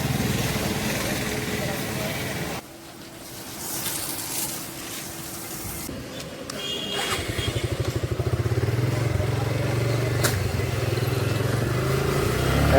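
A modified Suzuki Gixxer motorcycle in Bangladesh runs steadily up close with a continuous engine drone. The engine settles into a faster, pulsing throb partway through, and some voices mix in with it.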